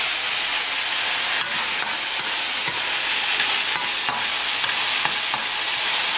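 Olive oil sizzles steadily in a pan as a mother stirs breakfast, with a continuous bright frying hiss and occasional scraping stir strokes, close and fairly loud with no talk.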